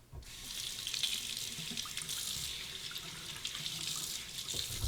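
A bathroom tap runs steadily into a sink while a face is rinsed after shaving, close and continuous with small splashes over the flow.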